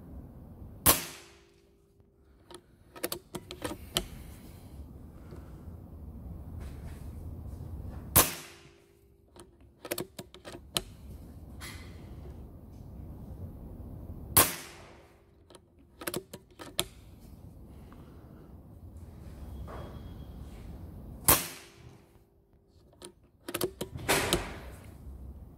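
Sharp shots from a Kral Puncher Breaker 5.5 air rifle crack out one at a time, roughly every few seconds, each followed by a brief ringing tail, with faint rustling in between.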